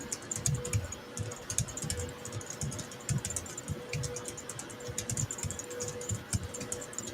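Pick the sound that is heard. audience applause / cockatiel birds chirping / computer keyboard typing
computer keyboard typing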